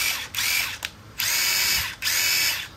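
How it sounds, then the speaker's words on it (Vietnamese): A Hitachi 18V cordless screwdriver runs in four loud, close whirring bursts with brief pauses between, a high whine on each pull of the trigger and no talking. "đầu tiên là một con máy bắn vít Hitachi"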